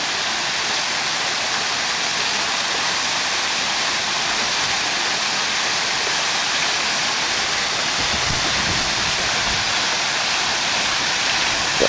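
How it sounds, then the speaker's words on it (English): A backyard waterfall water feature pours onto the pond surface with a dense, rain-like splashing, loud and continuous throughout with no voices. "Now it hits the water, that creates a rain effect, a lot of noise."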